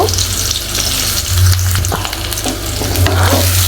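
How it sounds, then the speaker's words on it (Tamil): Large onions fry loudly in well-heated oil, a close, continuous crackling sizzle with occasional stirring scrapes and a low hum of the stove underneath, no voices. "நல்லா ஃப்ரை பண்ணிக்கோங்க"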